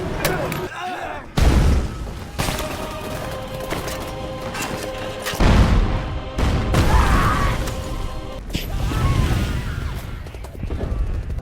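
A grenade blast and gunfire in a war film, with heavy booms near 1.5 and 5.5 seconds and dense crackling shots and rumble running throughout at high volume, mixed with other battle noise.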